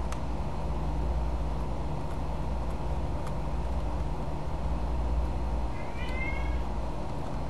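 A cat gives one clear meow near the end, rising and then falling, over a constant low hum; any earlier cries are faint, and no one speaks.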